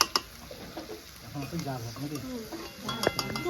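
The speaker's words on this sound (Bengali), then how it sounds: "অল্প জালে কষাচ্ছি" Chicken being sautéed and stirred over a low flame in a home kitchen, a soft sizzle with scraping spoon strokes against the pan, close, under people talking.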